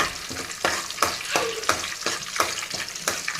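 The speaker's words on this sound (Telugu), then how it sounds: "ఇవి ఇప్పుడు తిప్పుకోవాలండి మనం చక్కగా." Peanuts and dried red chillies fry in a pan while being stirred, a continuous sizzle punctuated by rhythmic scraping strokes roughly every third of a second, close and without talk.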